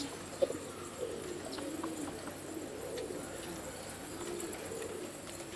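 White bar pigeons coo softly in a loft, low quiet murmuring calls with a few faint wingbeat or shuffling sounds, fairly distant over a light background hiss.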